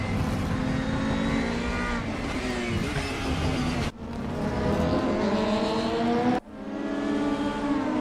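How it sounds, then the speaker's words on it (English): A DTM touring race car on track blips its engine through fast downshifts, the high revving tone stepping down abruptly twice amid steady loud engine noise, close and without talking. "Boy, he downshifted so quick"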